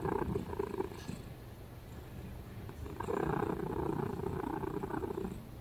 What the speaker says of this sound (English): they produce what is often called a solicitation purr.